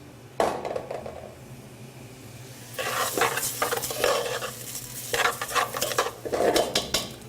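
Lump crab meat and rice sizzle in a pan on the stove, a soft frying hiss broken by bursts of stirring and scraping against the pan, close and fairly quiet.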